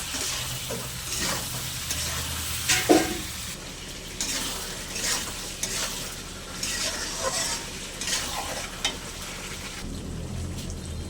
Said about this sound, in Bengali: দিয়ে খুব ভালো করে মশলার সঙ্গে কষে নেব।